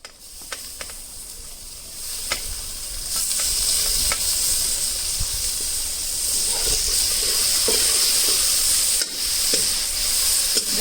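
Onion and tomato stirred and frying in a wok (kadai) with salt for Punjabi sarson ka saag, a steady close sizzle under repeated scrapes and clicks of a spoon against the pan, no talking.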